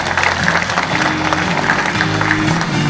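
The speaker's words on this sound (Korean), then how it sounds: "김선태 영천시 의회 의장님께 감사의 박수 부탁드리겠습니다." A room at a joint declaration event in Yeongcheon applauds council chairman Kim Seon-tae, giving dense, steady clapping from many hands that carries on loudly for a few seconds.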